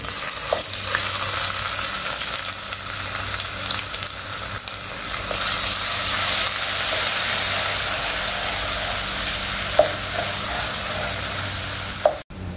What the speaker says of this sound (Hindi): ऑयल हमारा गर्म हो गया, इसमें हम डालेंगे लहसुन अदरक का पेस्ट